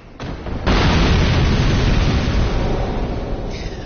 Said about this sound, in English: That explosion was strong enough to hit me on this floor.